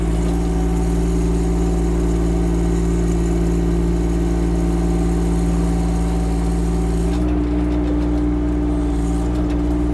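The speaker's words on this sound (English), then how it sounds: "Everything gets faster as you move the throttle up." Diesel engine of a Chinese mini excavator running steadily at raised throttle, a loud even mechanical drone with a slight shift in pitch near the end, close by and without talk.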